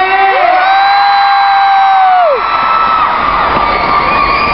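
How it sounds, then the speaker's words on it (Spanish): Loud crowd roaring, whooping and shouting at a concert in Monterrey, with sustained screams and cheers sliding up and down, filling the whole stretch close and intense. "aplauso, grita"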